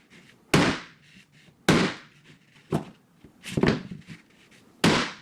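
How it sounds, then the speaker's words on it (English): Phone front display dropped onto a surface and smacked: five sharp, loud impact cracks spaced about a second apart, each with a quick decay, separated by quiet handling noise. "let's go ahead and progress with that front display. I'm gonna give it the same kind of drop as I just did"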